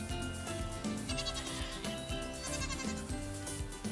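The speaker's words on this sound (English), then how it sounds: "these local goats have adapted their clambering skills to include" Goats bleat repeatedly in the Drakensberg mountains, several close, wavering cries overlapping in a steady rhythm against an outdoor background.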